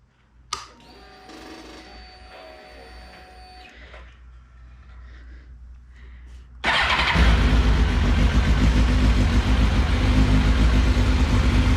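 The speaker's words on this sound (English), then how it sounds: "What you want to do is start your vehicle." A Suzuki GSXR 1000 motorcycle fires up indoors after a few seconds of starter whine and beeps, then idles loudly and steadily at close range.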